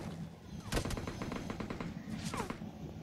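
Gunfire in a shooting video game comes in rapid bursts of automatic shots, with a couple of louder sharp blasts among the steady rattling.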